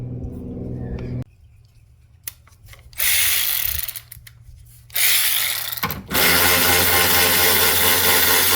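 A ratchet wrench removes 10mm bolts from the wiper motor assembly of a Mazda CX-5, giving short bursts of rapid clicking and rasping that come and go between quieter pauses, close and fairly loud.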